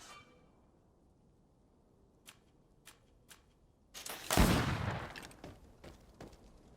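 Firearm shots during a training fight in the fantasy RPG GreedFall: three or four sharp isolated cracks spaced apart, then a louder burst with a trailing rumble and a few scattered follow-up shots, otherwise quiet.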